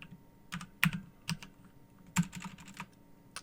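Typing on a computer keyboard, close and fairly quiet, a few scattered keystrokes with some sharper, louder presses in an irregular rhythm.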